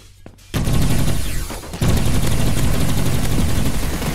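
Gunfire in the Roblox shooter Energy Assault: rapid automatic fire starts abruptly after a quiet moment and carries on loud and continuous, with a brief dip before a second sustained burst.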